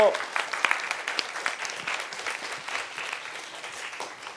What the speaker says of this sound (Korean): 박수를 치는 거예요